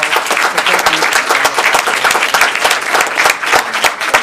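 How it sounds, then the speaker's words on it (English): At a Franklin Township council meeting, an audience in a room gives a round of close, loud clapping. Individual claps stand out sharply and the applause stays steady for about four seconds, with some voices mixed in. "I just want everyone to just give them a round of applause for everything that they do"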